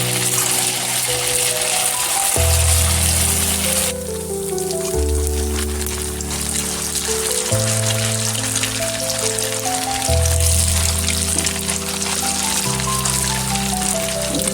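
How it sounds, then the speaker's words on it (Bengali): Puffed-rice pantuya sweets fry in hot oil in a wok with a steady, dense sizzle that runs throughout, partly masked by background music. "আমি লাল লাল করে ভেজে নেব"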